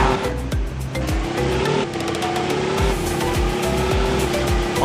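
Car engine in a farmhouse car simulator video game, revving loudly and accelerating hard with repeated gear changes and tire noise, close and continuous with no talk.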